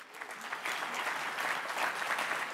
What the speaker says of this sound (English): Round of applause for all the women in testing.